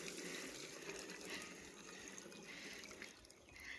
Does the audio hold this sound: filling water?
yes